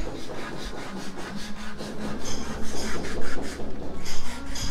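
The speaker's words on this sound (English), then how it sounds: "so they're doing the hand sanding" Someone hand-sands wood before varnishing during a house build in the Philippines, making steady, rhythmic rasping strokes that grow louder, close up and alone.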